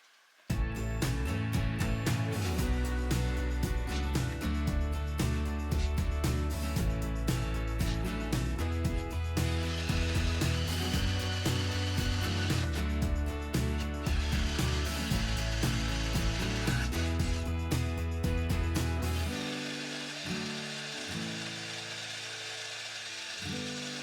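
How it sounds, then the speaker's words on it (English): A 1/4 inch drill bit boring starter holes in a metal plate for a custom clutch setup, heard as a steady loud power-tool whine that holds for about twenty seconds and then drops lower. "I'm going to use a Starrett center punch and a 1/4 inch bit to get these holes started here in this plate"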